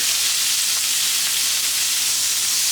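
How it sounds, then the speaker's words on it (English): Pork meat frying in a little oil in a pan gives a steady, close, unbroken sizzle with a bright hiss and no pauses. "And put meat first and cook until the pork is no more pink."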